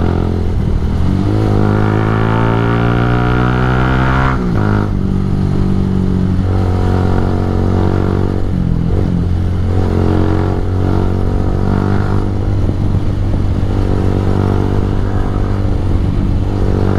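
A Kawasaki Rouser 180 motorcycle revs up hard through successive gears, each rising engine whine broken by short drops at the shifts. The engine is loud and close with a steady rasp, and no voices are heard.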